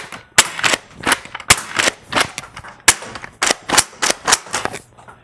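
A modded Nerf Accutrooper blaster, upgraded with a stiffer 8 kg spring, fires a rapid string of about a dozen sharp snapping shots at uneven intervals. The shots are close and loud, and no voices are heard.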